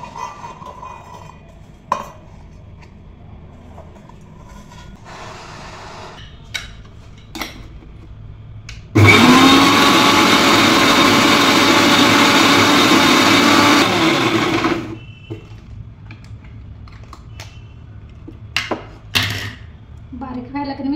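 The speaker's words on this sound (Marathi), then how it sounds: "हिरवी मिरची, लसूण, जिरं आणि कोथिंबीर हे थोडंसं मीठ घालून कणी आपण मिक्सरला वाटण करून घेऊया" A kitchen mixer grinder whirs loudly and steadily for about six seconds while grinding green chillies, garlic, cumin, coriander and salt, with scattered clinks of utensils before and after.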